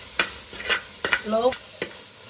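Fish curry masala with salt being stirred in a pan, with five separate scraping strokes of the spoon over a faint background sizzle and a short tonal squeak partway through.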